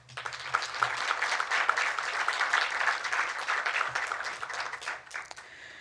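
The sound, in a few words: audience applause at panel discussion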